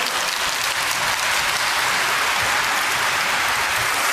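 A large audience breaks into loud, dense applause that holds steady and unbroken from start to finish, with no talking over it.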